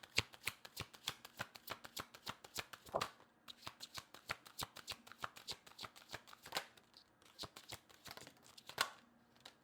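A deck of tarot cards being shuffled: steady, rapid riffling and slapping of cards in a quick rhythm with brief pauses, close but soft, and no voices.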